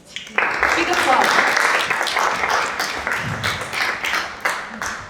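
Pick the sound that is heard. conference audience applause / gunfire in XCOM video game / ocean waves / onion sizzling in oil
conference audience applause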